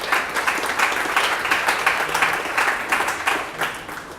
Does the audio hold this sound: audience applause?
yes